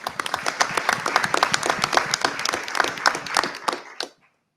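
A room of people at a board of education meeting claps for retiring school employees, including a bus driver and food service helper; dense, even applause runs strong for four seconds before cutting off cleanly.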